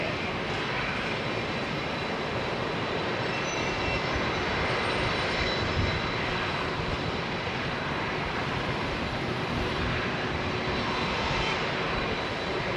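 Aircraft engine roar at London Heathrow Airport on a smoky day, a continuous broad rumbling drone from a rooftop vantage, steady and unbroken with no voices.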